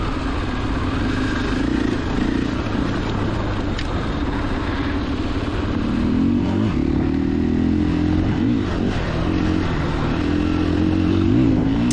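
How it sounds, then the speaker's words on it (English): A 2021 KTM 500 EXC-F dirt bike rides along rocky double track between trees, its engine droning loud and steady close up, with rising revs and clattering from the rough ground. "just having fun on my dirt bike"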